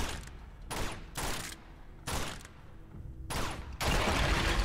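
Gunshots in Uncharted 2: about five sharp, close bursts of fire in quick succession, each ringing out briefly before the next.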